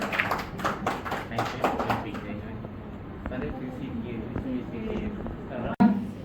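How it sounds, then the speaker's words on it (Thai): A seminar audience at a workshop reviewing learning-activity plans claps for Bua, a brief burst of applause in the first couple of seconds that thins out into quieter room noise and someone speaking. "ขอเสียงปรบมือให้น้องบัวอีกครั้งหนึ่งค่ะ"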